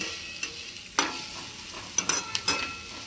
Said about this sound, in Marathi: आता हा कांदा परततोय कांदा पूर्ण लाल होईपर्यंत परतायचा आहे